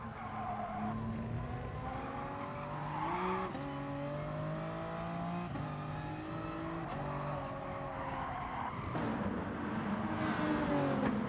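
Group 3 race cars in Gran Turismo Sport at Lago Maggiore, engines revving loudly and steadily with shifting pitch, tires squealing and skidding through corners, continuous and close with no talk.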